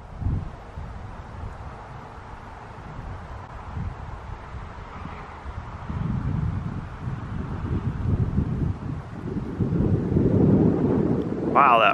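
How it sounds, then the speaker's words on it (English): Fierce wind blowing outdoors on a snowy farm: low, gusty rumbling and buffeting against the microphone, growing stronger toward the end. "that wind is some fierce"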